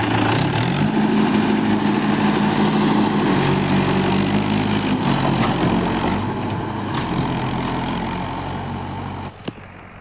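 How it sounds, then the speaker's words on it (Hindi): Massey and Mahindra tractors run together in a field, a loud, close engine drone with steady low rumbling that eases slightly toward the end. A sharp click sounds near the finish. "दोनों ट्रैक्टर इकट्ठे हो गए, मैसी और महिंद्रा।"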